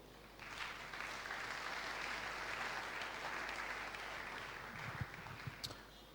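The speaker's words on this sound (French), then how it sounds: "Acclamez d'abord." A church congregation breaks into sustained applause, a dense, steady wash of many hands clapping in a reverberant hall that carries on for several seconds before thinning out.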